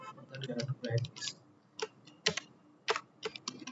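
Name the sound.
typing SQL query on computer keyboard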